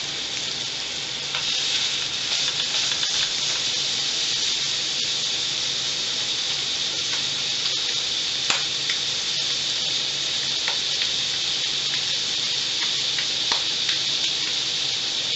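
Buck burger patties of deer meat fry in a buck cooker with a steady, loud sizzle and hiss, broken by scattered pops and crackles, with no talking.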